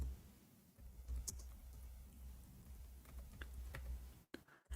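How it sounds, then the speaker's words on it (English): Keys on a computer keyboard clatter in irregular bursts of soft clicks and taps at close range for several seconds, quiet and without speech. "No, I'm typing in Arabic."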